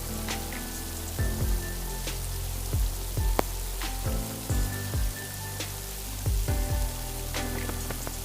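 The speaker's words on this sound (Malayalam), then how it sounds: "ഇനി ഫ്രൈ ചെയ്യാനുള്ള പാകത്തിന് ഓയിൽ ഒഴിച്ച് ഇതുപോലെ ഫ്രൈ ചെയ്തെടുക്കാം." An evening snack frying in hot oil over a medium flame, a constant close crackling sizzle with scattered pops, and a few clunks and scrapes as pieces are moved.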